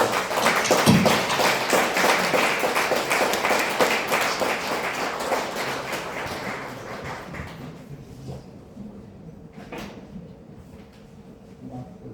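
An audience at a monthly church gathering applauds to welcome a pastor. Dense, loud clapping from many hands starts at once, holds steady, then thins and fades out over several seconds, leaving a quieter room with a few stray sounds.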